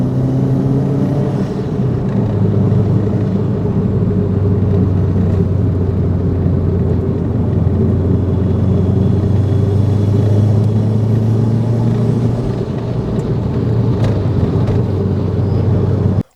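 A 2007 Subaru STi's engine rumbles continuously while driving, a loud, steady low drone with slowly shifting tones and no speech.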